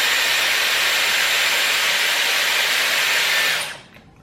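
Dyson Airwrap hair styler blowing hot air, a loud, steady, close whooshing hiss that holds evenly for several seconds and then cuts off abruptly near the end.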